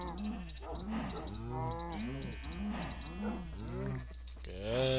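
Cows mooing in Minecraft, a run of repeated low, drawn-out moos in quick succession, close and clear over a steady low hum.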